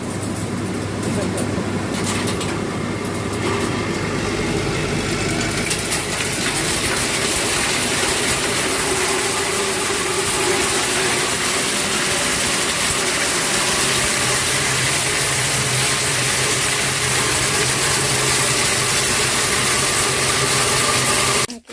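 An aspiration column fan for sorting hazelnut kernels from shells whirs and roars steadily for the whole stretch, a constant broadband hum with mechanical rumble beneath, cutting off abruptly at the end.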